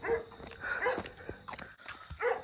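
Guard dogs bark in a Greek town, several distinct barks and yips spread through the short stretch at moderate distance, with no talk over them.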